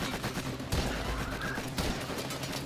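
Rapid automatic fire from the Soma rifle in the sci-fi shooter Warframe, a dense unbroken stream of shots with heavier bursts partway through, loud and close throughout.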